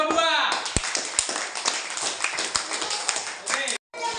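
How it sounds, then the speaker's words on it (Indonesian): Classmates clapping for a student group during a classroom practice session, a brief burst of hand claps under ongoing talk and room noise, with voices speaking over it. "Tepuk tangan kelompok 2."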